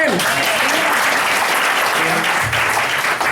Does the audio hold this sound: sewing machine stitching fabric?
no